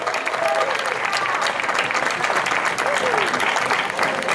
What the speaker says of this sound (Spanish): Sí señor, ese aplauso para ellos.